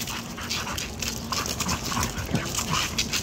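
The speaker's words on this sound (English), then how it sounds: "I'm gonna hold my dog here for a second." A held dog whimpers and whines in soft, broken bursts over steady outdoor background noise, with a high thin tone running underneath.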